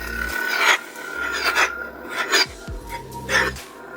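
Cal Kestis replica lightsaber from Jedi Survivor, with its hum swelling in several brief, moderate surges and low tonal swooshes each time the hilt is twisted, no voices.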